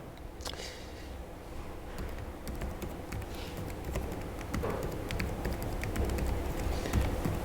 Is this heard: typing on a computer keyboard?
yes